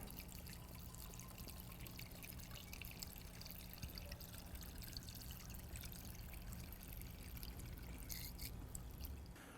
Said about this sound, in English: And we're pouring our product in.